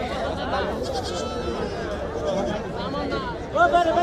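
Goats bleat several times over a background of crowd chatter and voices at a busy rural livestock market, with the loudest bleats coming near the end.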